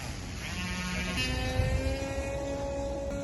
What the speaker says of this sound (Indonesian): ini kita mau terbangin pesawat yang udah kita bikin ya pakai printer 3D